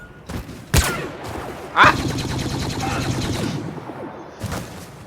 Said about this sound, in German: Bisschen unpräzise ist ja schon das Gewehr.